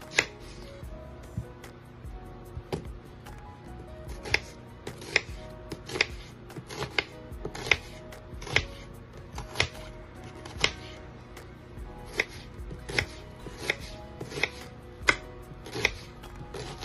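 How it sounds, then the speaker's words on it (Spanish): An onion is chopped on a cutting board for tuna sandwiches: steady, crisp knife strikes repeat about twice a second, close and clear, with no talking. "vamos a cortar la cebolla"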